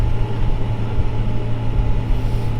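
A Kubota M7.173 tractor engine under throttle, a steady low diesel rumble close by that stays constant throughout, with no sharp rise in pitch.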